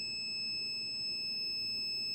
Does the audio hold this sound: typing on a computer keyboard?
no